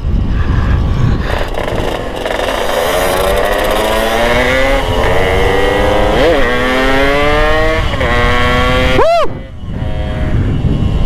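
A tuned motorcycle engine revs hard while riding on a road, its pitch climbing steadily through the gears with a sharp high rev near the end before easing off, loud and continuous with wind rush.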